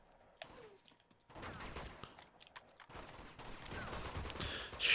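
Gunfire in the video game Uncharted 2, a scattered run of sharp shots and bursts building into dense, loud volleys toward the end, with no music underneath.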